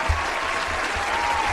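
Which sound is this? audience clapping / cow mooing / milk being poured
audience clapping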